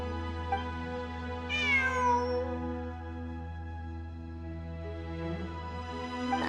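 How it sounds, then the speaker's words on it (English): A cat meows inside the Genshin Impact video game, a clear rising call followed by a softer one a few seconds later, heard alone over a steady, low musical background. "I'm not hearing things. It really is a cat."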